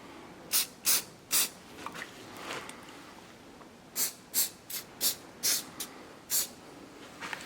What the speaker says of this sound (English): Just going to give it a little shot of accelerator now.